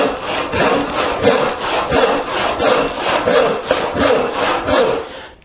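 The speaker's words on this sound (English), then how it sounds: "clamp the leg horizontal to the saw bench and rip like we normally would rough stock" A hand saw rips a workbench leg clamped horizontally on a saw bench, with close, loud rasping strokes in a steady back-and-forth rhythm of about a dozen pushes and pulls, alone without talk.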